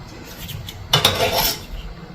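Metal knife picked up from a kitchen counter with a short clink and rattle against utensils, close and brief, amid quiet room noise.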